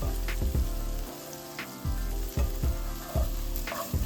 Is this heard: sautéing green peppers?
yes